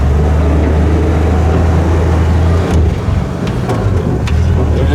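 A turbocharged car engine runs loudly and close by while warming up. It gives a steady, heavy rumble with a brief dip partway through and no speech.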